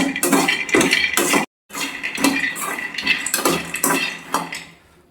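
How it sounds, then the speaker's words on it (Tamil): About 100 grams of almonds dry-roasted in a pan and stirred continuously, giving loud, close metallic scraping and clattering with a brief pause partway through. "இப்போ அடுத்து பாதாம் கொஞ்சமாக போட்டு நம்ம வறுக்க போகிறோம் 100 கிராம் அளவுக்கு"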